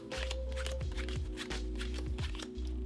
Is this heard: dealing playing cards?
yes